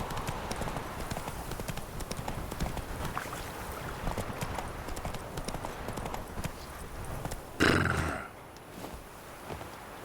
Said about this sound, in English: Was that Geralt making a horse noise?